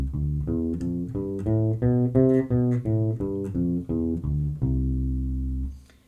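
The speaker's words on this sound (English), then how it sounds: "The major scale sounds something like this." Bass guitar plays an ascending then descending major scale, clean plucked notes in steady rhythm, ending on a long sustained low note that fades out; no voices.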